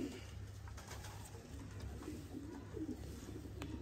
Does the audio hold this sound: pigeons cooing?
yes